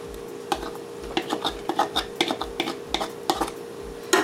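Tomato paste being stirred into a vegan stroganoff mixture in a pan, with a steady low hum behind a series of soft, regular scraping and tapping clicks of a utensil against the pan.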